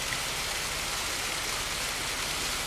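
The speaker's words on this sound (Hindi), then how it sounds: "और ये ऊपर से आ रही है जी हल्की सी छोटी सी मिनी आबशार, आबशार का बच्चा आप कह सकते हैं उसको।" Small mini waterfall of crystal-clear water spilling from above in the Margalla Hills, a steady broadband rush and splash that holds constant throughout, close and fairly loud with no voices.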